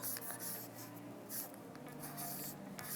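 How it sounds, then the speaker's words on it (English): A felt-tip marker is scrubbed back and forth over a sheet of paper to colour it in, giving close, steady scratchy strokes in quick repeated bursts with no voices. "you could grab a texter and just colour in your piece of paper"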